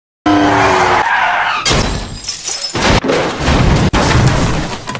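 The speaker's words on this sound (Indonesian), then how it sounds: "Vesper tiba-tiba berada di tengah jalan dan membuat Bond harus membanting setir hingga membuatnya celaka" A James Bond film car swerves hard on the road: a loud engine and tire rush, then abrupt cuts into heavy skidding noise with booming, crashing bursts.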